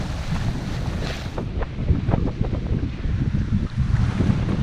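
Steady roaring wind of about 16 knots from the northeast buffets the microphone aboard a sailing boat, with water rushing and slapping against the hull, loud and continuous.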